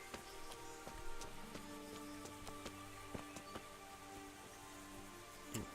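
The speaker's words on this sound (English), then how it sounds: "Even though it's raining" Soft steady rain pattering in the medieval world of Kingdom Come: Deliverance, faint and continuous with occasional drop ticks under quiet game ambience.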